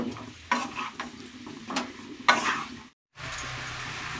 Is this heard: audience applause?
no